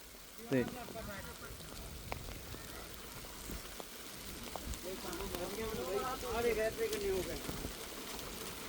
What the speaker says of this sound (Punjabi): ਮੈਂ ਅਗੇ ਗੜੇ ਨਿੱਕੇ ਨਿੱਕੇ ਹੀ ਆ ਪਰ ਡਿੱਗਣ ਡੇ ਆ